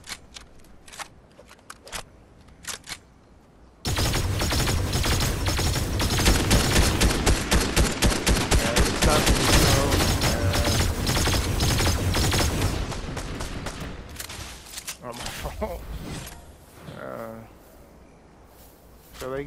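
Dense, sustained burst of Fortnite gunfire, loud and near, with rapid overlapping shots running several seconds before easing off, a player's voice talking briefly before and after.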